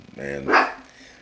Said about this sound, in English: excuse my dog, man. She out here barking at the neighbors